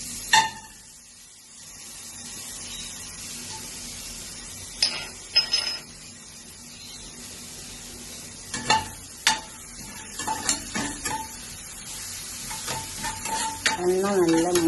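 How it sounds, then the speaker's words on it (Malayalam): Crushed ginger and garlic frying in a little hot oil for fish cutlet masala, with a quiet continuous sizzle broken by scattered scrapes and clinks of a spoon stirring in the pan. "അപ്പോൾ ഇഞ്ചി വെളുത്തുള്ളിയൊക്കെ നന്നായി മൂത്ത് വന്നിട്ടുണ്ട്"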